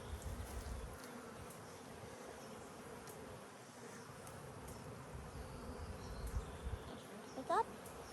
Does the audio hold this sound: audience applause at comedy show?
no